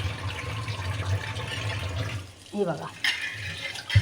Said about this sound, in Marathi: आता नळाखाली नेते मी आणि धुवून काढते स्वच्छ